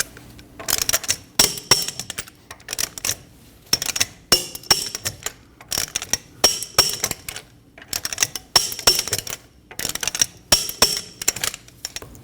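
A torque wrench clicking on the lug studs of a Volkswagen Passat in a star pattern, sharp close ratcheting clicks in repeated bursts with short pauses between them.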